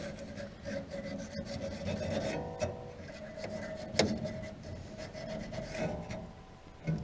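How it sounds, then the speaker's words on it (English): Small pieces of sandpaper rub crud off a furnace's thermopiles and flame sensor, making quiet, irregular scratchy strokes with a few sharper ticks against a low background hum, with no voices. "take a little piece of sandpaper and clean them up"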